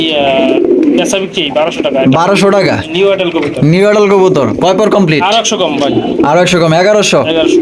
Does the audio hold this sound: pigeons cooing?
yes